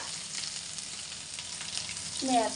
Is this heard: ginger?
yes